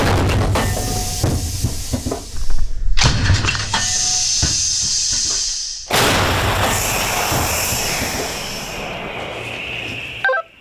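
A 2S1 Gvozdika 122 mm self-propelled howitzer fires from an artillery position, giving heavy, loud blasts followed by hissing and rumbling, heard close up from inside the vehicle.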